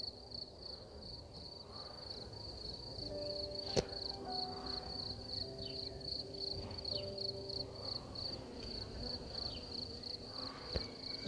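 A steady drone of honey bees in a hive hums throughout, with faint crackling and a few sharp clicks, close and continuous.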